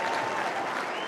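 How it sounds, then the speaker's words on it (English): A large football stadium crowd at a 2005 AFL match between West Coast Eagles and Carlton applauds as a player leaves the field, a broad, even wash of distant clapping. "The applause for Wirpunda coming off."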